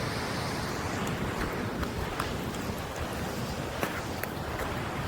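A waterfall roars outdoors with rushing water, a steady, loud broadband wash with no pauses and no talk.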